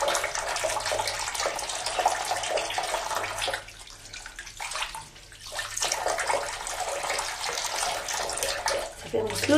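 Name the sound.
running water while washing the face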